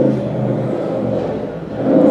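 A motorcycle passing by outdoors, a steady engine rumble and whir heard from a moderate distance, growing louder toward the end, with no voices.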